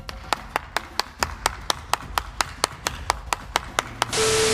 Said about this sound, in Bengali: তালিয়া তালিয়া মার তালিয়া।